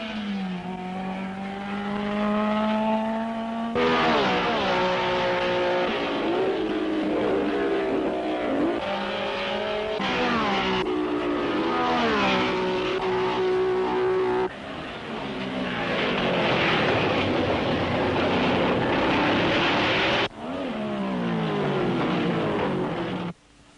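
Several 1961 Formula One cars at the Belgian Grand Prix, including Graham Hill's BRM number 36 and Jim Clark's Lotus, roar past one after another, engines rising and falling in pitch as they approach, pass close and fade.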